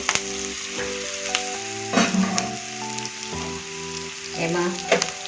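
Farali khichdi with dry ginger powder is stirred in a sizzling pan, a steady frying hiss broken by scraping spoon strokes and a few sharper clatters, with faint music underneath.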